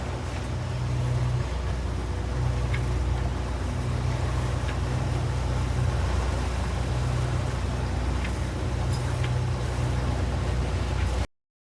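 Boat engines run steadily at sea off the Florida coast, a constant low drone with wind and water noise layered on top, continuous and fairly close with no talking.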